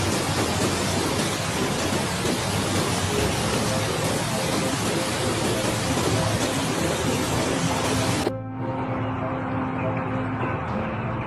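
Heavy rain pours during a thunderstorm over flooded Dubai. A dense, loud roar of rainfall continues steadily, then cuts off abruptly near the end, leaving a quieter low rumble.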